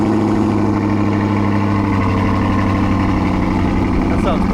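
A classic car engine idles loudly and steadily through its exhaust, a deep, throbbing rumble close by that holds for the whole clip.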